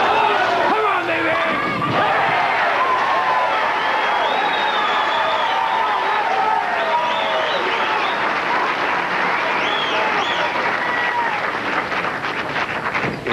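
A crowd applauds and cheers at a professional bowling tournament final, sustained loud clapping under excited commentary that carries on throughout.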